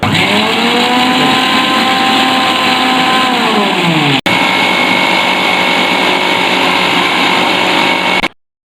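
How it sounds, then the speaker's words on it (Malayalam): An electric mixer grinds garlic, sugar and salt at low speed, a steady, loud, close motor whir with shifting pitch, broken by a momentary gap near the middle before running on and cutting off abruptly. "ഇനി നമുക്കിതൊന്ന് ലോ സ്പീഡിലിട്ട് അടിച്ചെടുക്കാം"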